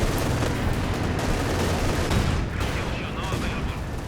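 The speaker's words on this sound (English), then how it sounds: "Light artillery barrage going down." A light artillery barrage in Company of Heroes 2 pounds away as loud, dense, overlapping blasts and gunfire, sustained with little pause throughout.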